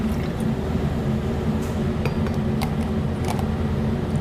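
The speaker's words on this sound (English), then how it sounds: "Gonna add 4 ounces of white wine vinegar." White wine vinegar, about four ounces, poured into a pan to start a beurre blanc reduction gives a steady close liquid trickle over a low continuous rumble, with a few faint glassy clinks.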